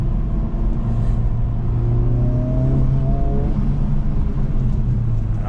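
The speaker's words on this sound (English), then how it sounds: "I don't know if you can hear those turbo sounds" Honda Civic Type R FL5 turbocharged engine accelerating on a road in Japan, heard from the cabin as a steady loud rumble with rising engine tones and faint turbo whir, no talk.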